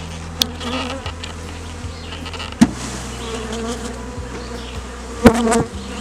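A steady low buzz of many honeybees humming nearby as they are knocked down into a nuc hive, with a few sharp taps and knocks breaking through.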